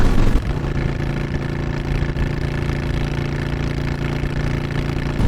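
A Honda Shadow 750 Aero bobber motorcycle engine idles steadily, recorded close to the exhaust, a continuous low throbbing rumble with no change in pace.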